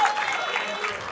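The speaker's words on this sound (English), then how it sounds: "Clap for Reed anyway. Give him some" An audience at a live stand-up comedy show in Dallas bursts into a brief, steady round of applause, with a voice speaking over the clapping.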